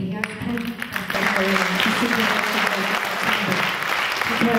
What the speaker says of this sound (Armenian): Եկեք բարձր ծափահարենք այսօր մեր հիացքը